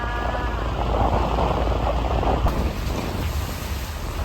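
Steady rain pours down outdoors as a dense, broadband hiss with a low rumble underneath, continuous and fairly loud throughout.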